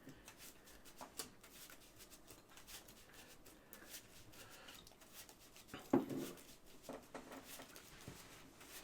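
Pokémon trading cards being shuffled at a table during a Standard-format match, a soft, steady papery riffling and patter that stays faint and close, with one brief louder handling thump partway through.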